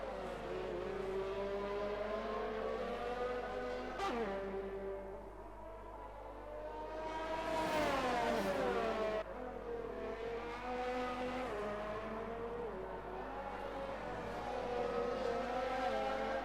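Race cars roar around a track during an X1RL racing series round in China, engines revving up and down as cars pass close by in a sustained, loud drone.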